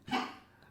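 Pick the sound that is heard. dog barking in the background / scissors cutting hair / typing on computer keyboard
dog barking in the background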